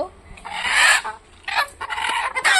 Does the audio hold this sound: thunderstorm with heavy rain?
no